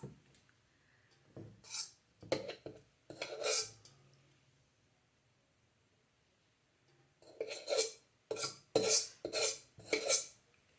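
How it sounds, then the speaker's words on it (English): Monoi body butter being decanted into a tin, with a few scraping, clinking spoon-on-metal sounds, a quiet pause, then a quick run of louder scrapes and taps close by. "So just carefully decanting the butter into the tin now."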